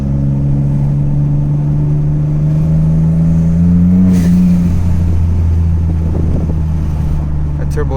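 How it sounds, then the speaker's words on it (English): A twin-turbo Ford F-150 with an eBay exhaust and cutoff valve drones loudly while driving at highway-like speed in second gear, a steady deep engine hum with a pitch shift and wind rush, heard from inside. "That turbo is really loud though."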